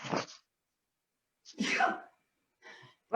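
A single sharp sneeze bursts out near the end, following scattered murmurs and brief voices in a group exercise class for adults.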